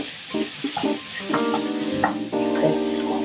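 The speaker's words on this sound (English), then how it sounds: "give it a stir fry until you can start to smell those aromas as they're starting to" Chili and garlic being stir-fried in oil in a pan on medium-high heat: a soft, continuous sizzle with scraping and light metallic clinks from the stirring utensil.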